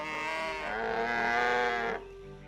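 A loud, drawn-out cow moo from the video game My Time at Portia, with a rich harmonic tone, lasting nearly two seconds before cutting off, with no talking.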